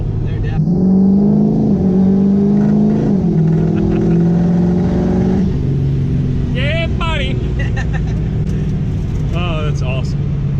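A diesel truck fitted with big injectors on a stock turbo launches at full throttle, a loud droning engine roar that climbs in pitch and then cuts off, with people talking and shouting over it.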